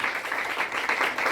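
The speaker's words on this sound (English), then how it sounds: "give yourself a round of applause" An audience applauding at an empowerment gathering, a steady dense patter of clapping that holds at an even level throughout the short stretch, with no voices heard over it.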